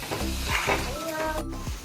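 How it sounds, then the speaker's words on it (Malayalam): Prawn masala for a coconut-slice prawn roast bubbling and sizzling in a pan, a steady close fry with soft stirring scrapes and brief voice-like sounds over it. "നന്നായിട്ട് തിളക്കുന്നുണ്ട്"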